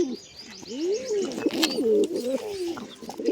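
Grey pigeons coo in a low, rolling, repeated pattern, a pair calling close by with overlapping throaty phrases and a few brief higher chirps mixed in.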